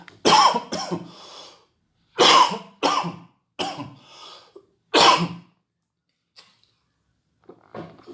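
A string of harsh, close coughs in uneven bursts with short silent gaps, ending in a few faint quieter noises.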